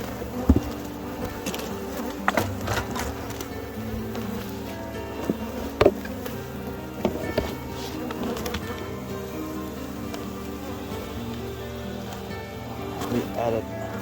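Honey bees hum in a dense, continuous buzz around an open overwintered hive during an inspection, with occasional clicks and knocks from handling close by.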